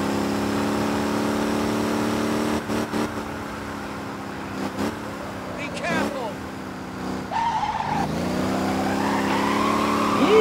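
Kombi van fitted with a twin-turbo 3.6 engine making 400 hp, driven in Motor Town, drifting and skidding: a steady loud engine drone with revs rising and dipping, bursts of tire squeal and a sharp skid near the end.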